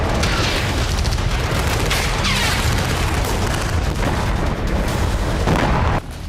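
Booming blasts from Russian army attacks in the Ukraine war roll through a dense, loud, continuous rumble with repeated impacts, ending with a sudden drop in level.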